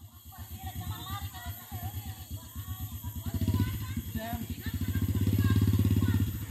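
A motorcycle carries a rider with a passenger on the back, its mid-pitched engine droning steadily and swelling louder toward the end, with voices talking over it throughout.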